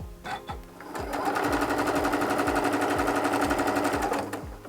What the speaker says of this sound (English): you are going to sew a 1/4 inch seam